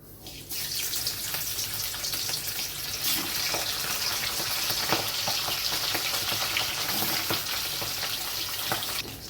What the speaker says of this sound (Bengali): তেলটা গরম হয়ে গেছে, এবার আমি মাছগুলো ভেজে নিচ্ছি।